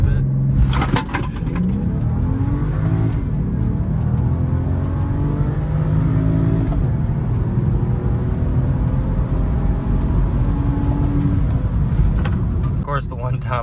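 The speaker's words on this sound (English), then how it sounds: "I'm foot to the floor right now, and we're handling the turns pretty well." BMW X1 xDrive35i M-Sport pulling hard at full throttle on a twisty road, a steady loud engine drone with rising harmonics from the cabin, someone talking over it throughout.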